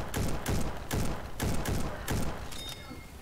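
A rifle fires in a shooter video game, about six sharp shots at an even rhythm roughly half a second apart, loud and close, the last one followed by a brief metallic ring.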